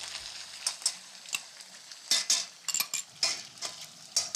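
Onion paste frying in a pan, a steady soft sizzle broken by several sharp crackling bursts and light stirring scrapes, close and fairly quiet with no talk.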